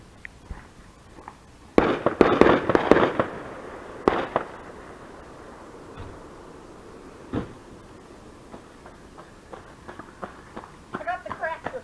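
Fireworks go off outdoors at a backyard celebration: loud cracking bursts and a crackling cluster near the start, then scattered pops and crackles. People talk throughout.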